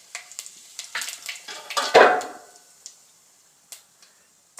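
Cumin seeds dropped into hot oil for a chicken curry, giving a sharp burst of sizzling that flares loudly then fades to light crackles, with a few scattered clicks of a spoon against the pan.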